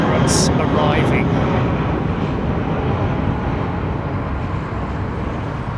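An Emirates airliner arriving at London Heathrow, a loud steady broadband jet roar that fades slightly over the seconds, with a voice talking over it.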